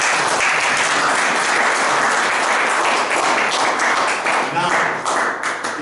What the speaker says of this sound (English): will you give me an applause from Bill Dye?